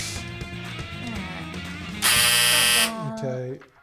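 A timer buzzer goes off with a loud, harsh electronic drone lasting under a second, cutting over people talking and laughing around it.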